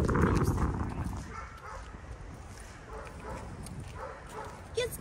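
A dog on a walk outdoors, with repeated barks and yips over steady low rumbling noise, a short sharp bark near the end, and people talking nearby.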